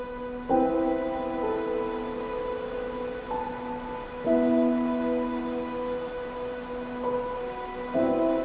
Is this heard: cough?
no